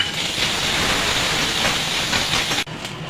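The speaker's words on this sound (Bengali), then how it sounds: "আমি আদাটা ভেজে নেব।" Ginger fries in oil in a wok for mutton biryani with a loud, steady, hissing sizzle that drops off abruptly near the end and then continues more quietly.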